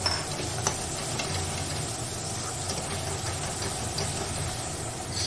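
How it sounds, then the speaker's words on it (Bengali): A spice paste of masala with cumin powder sizzles steadily in a pan, a constant frying hiss with occasional scrapes of stirring, close and continuous, with no talk. "জিরের গুঁড়ো দিয়ে মশলাটাকে আরেকটু কষিয়ে নেব"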